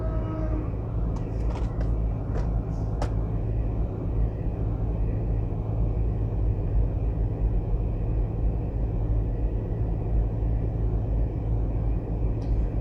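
A car drives along the Portmore Expressway in Jamaica, its steady road rumble and engine drone continuous and loud throughout, with a few brief higher ticks early on.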